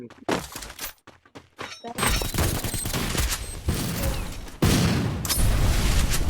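Rapid sniper gunshots and impacts in a shooter game's squad tournament match, loud and dense bursts after a few sharp opening cracks, with no talk over them.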